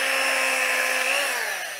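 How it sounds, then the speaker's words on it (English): An old Skil hammer drill whirring at a steady high speed, close and loud, then winding down slightly near the end. "it's a hammer drill and just a hammer and then plus a straight drill"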